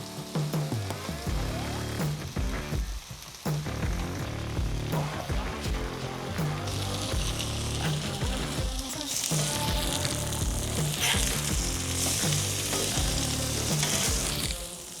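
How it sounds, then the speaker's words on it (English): Meat sears on a Blackstone griddle with a loud, continuous close-up sizzle, punctuated by spatula scrapes and taps against the flat-top, and the crackle grows stronger toward the end. "Now let these guys cook on the Blackstone until we had a nice buttery crust on each side"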